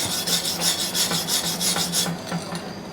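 A wire brush scrubs slag off an arc-weld seam on a flat butt joint in quick, rhythmic back-and-forth rasping strokes, close and steady for about two seconds before easing off.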